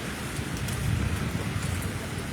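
Light rain near a tent camp in Kahramanmaraş forms a steady, dense patter and hiss, fairly close and even, with no voices.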